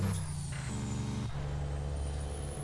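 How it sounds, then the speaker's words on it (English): Truck in American Truck Simulator with a Jake brake shift: a loud, continuous low engine rumble, close and steady, that dips and changes pitch partway through as the gear shifts, with a thin high whine above and no talking. "Here comes the Jake shift."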